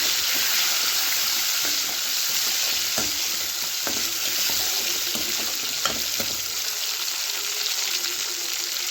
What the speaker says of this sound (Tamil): இதில் கொஞ்சமாக தக்காளி பழம் கட் பண்ணி வச்சுருக்கு அதையும் சேர்த்துக்கலாம் சேர்த்துட்டு கலந்து விட்டுக்கலாம்